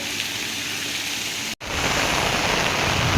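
Heavy, flooding rain pours steadily as a dense broadband hiss, briefly cutting out for an instant midway before resuming even louder.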